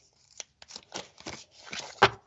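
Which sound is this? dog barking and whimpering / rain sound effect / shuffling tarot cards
shuffling tarot cards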